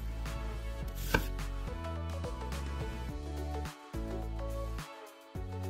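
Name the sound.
knife slicing onion into strips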